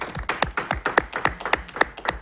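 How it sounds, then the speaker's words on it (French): An audience claps together in a steady, even rhythm, about four claps a second, crisp and close with no voices over it. "On applaudit encore s'il vous plaît."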